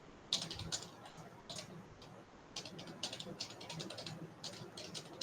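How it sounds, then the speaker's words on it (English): Typing on a computer keyboard in an office-style setting: quick irregular runs of soft key clicks, close and fairly quiet, with faint background noise and brief pauses between bursts. "I'm typing in the mail ID"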